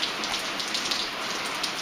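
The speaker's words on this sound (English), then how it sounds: "We've been in a drought, and we're getting a little rain." Steady rain falls on a summer day in rural central Virginia, a dense, even hiss of drops on surfaces with small pattering peaks, close by and continuous with no voices.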